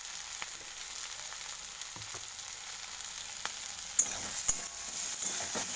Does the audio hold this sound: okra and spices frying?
yes